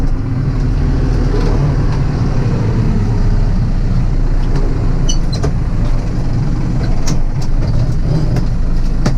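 A 95-horsepower tractor's engine runs at low revs while driving slowly with a corn row hoe, a constant loud diesel drone with faint rattles over it and no voices.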